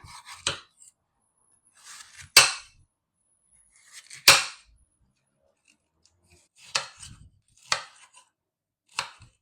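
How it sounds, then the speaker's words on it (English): A knife chops a yellow pepper on a cutting board, giving sharp, close knocks that come singly or in small bunches with quiet gaps between them, and nobody speaks. "I'm going to start by chopping the pepper"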